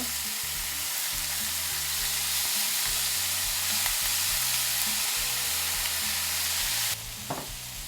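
Eel grilling in a pan with sauce brushed on, a steady close sizzle and crackle over a low hum, with light stirring or scraping noises and no talk.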